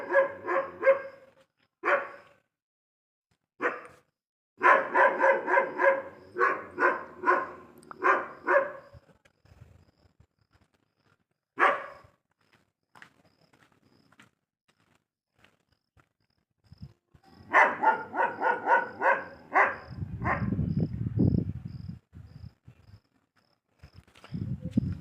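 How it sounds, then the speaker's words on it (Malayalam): A large male dog barks in repeated loud bursts, close by, with long pauses between volleys, while crickets and insects chirp steadily in the background. "ഈ നായ നിങ്ങൾ കണ്ടിട്ടുണ്ടോ?"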